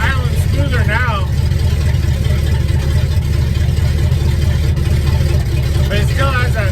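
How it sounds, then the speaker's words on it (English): Car engine idling after a cold start, while a fuel line problem makes it want to stall, a loud, steady low rumble close by, with voices talking over it. "He's idling smoother now."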